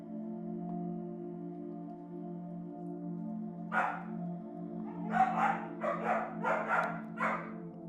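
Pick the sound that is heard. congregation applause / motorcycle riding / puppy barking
puppy barking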